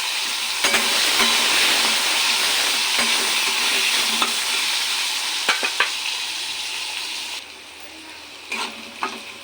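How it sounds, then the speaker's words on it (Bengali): Potatoes sizzle and crackle steadily while frying in a pan for a pointed gourd and potato curry, with sharp scrape-and-clack stirring strokes scattered throughout. Close by, heard alone with no talking. "আলুটা ভাজা হয়ে গেছে জিরে আদা লঙ্কাটা দেব"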